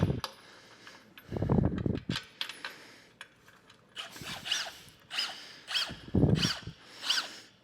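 A power drill whirs in several short bursts, close up, separated by clanks and pauses, during work on a tri-powered V8 roadster.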